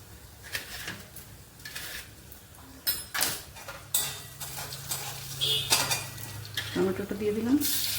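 Tomato goes into a hot pan while a vegetarian paneer dish cooks, with clattering utensils and spoon scrapes over a steady sizzle that grows toward the end.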